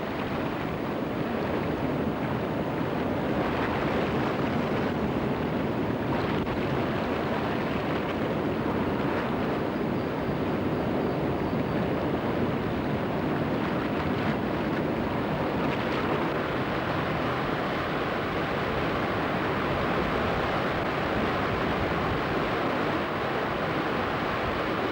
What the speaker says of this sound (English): Now he shoots these rare saltwater rapids.